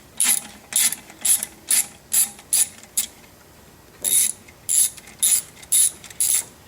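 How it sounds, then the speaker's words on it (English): Ratchet with a deep 11mm socket loosening metric clamps on an ISX diesel engine's EGR system; crisp clicking bursts in two series of quick strokes with a short pause between, close and clear. "Ratchet. I have a deep well 11mm."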